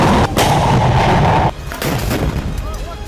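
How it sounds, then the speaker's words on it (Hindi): Mortar fire from Hamas fighters in Gaza: a loud, dense booming blast sustained for about a second and a half, then a sharp drop into a rumbling, lower-level aftermath with scattered bursts. "तस्वीरों में दिख रहा है कि हमास के लड़ाके आम लोगों के कपड़ों में और छिपकर मोर्टार दाग रहे हैं।"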